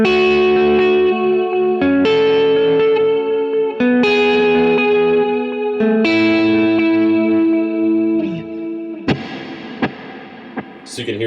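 Electric guitar chords ring out through a wet reverb pedal, each strum blooming into a long, washy tail, followed by a few sparse plucked notes.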